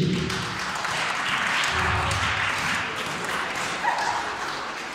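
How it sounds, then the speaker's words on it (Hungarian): Audience applause at a rockabilly event at a Hungarian horticultural vocational school, a dense continuous roar of clapping from a large crowd, loud and steady for the whole stretch. "nagy tapsot neki is"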